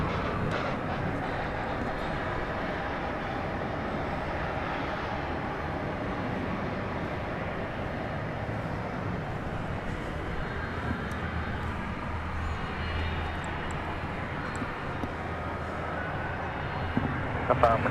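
An American Airlines jet, a 1992 airframe about 31 years old, takes off at night from DFW Airport runway 18 left, giving a steady, sustained broadband engine roar throughout, with people talking over it.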